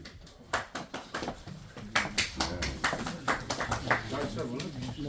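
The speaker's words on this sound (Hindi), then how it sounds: "जोरदार तालियों के साथ" Applause at a Peoples Democratic Party meeting, a crowd clapping in quick, uneven bursts, while a voice is heard over it on a loudspeaker.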